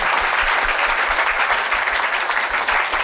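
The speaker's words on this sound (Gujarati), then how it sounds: "મુક્તો તાળીથી વધાવો એ પરિવારને" Dense, loud audience applause rolls steadily through a Swaminarayan religious gathering, many hands clapping together without pause and no voices above it.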